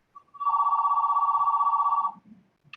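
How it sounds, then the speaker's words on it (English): A telephone rings in one continuous electronic trill lasting under two seconds, a rapid warbling buzz that stops abruptly, clear and fairly close in an otherwise quiet room. "someone got a phone ringing?"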